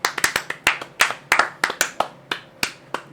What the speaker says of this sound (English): Can I get a round of applause for the Barbos segment?